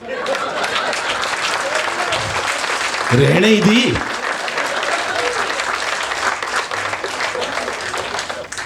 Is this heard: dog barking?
no